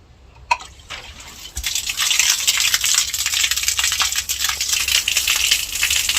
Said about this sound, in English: The water comes out of the seashell.